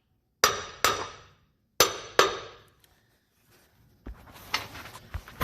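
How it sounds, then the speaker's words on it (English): Hammer tapping a dowel pin on a transfer case: four sharp metallic strikes in two quick pairs, each ringing briefly, followed by quieter handling clatter and a short spoken word. "So we're just going to take the hammer since it started on the dowel pin. Just tap."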